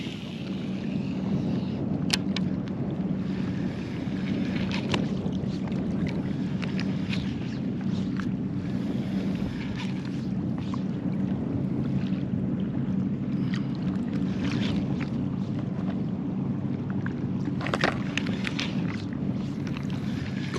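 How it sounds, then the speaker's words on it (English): A motorboat draws closer across a shallow South Bay fishing bar, its steady engine drone holding throughout over light wind and water noise, with no one talking. "we got another boat coming up on us"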